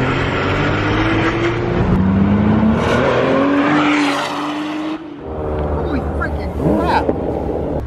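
Porsche Boxster S accelerating through the gears, the engine note climbing and dropping with each shift, loud and close, with a person talking over it.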